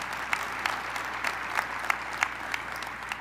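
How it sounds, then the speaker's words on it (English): Audience applause at a mayoral Bronze Medallion ceremony in New York City, a sustained even wash of many hands clapping at moderate distance, with a few sharper claps standing out. "Please give them a round of applause."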